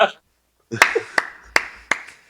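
A short burst of hand clapping follows a quick spoken phrase, with several sharp, distinct claps spaced evenly and fairly close.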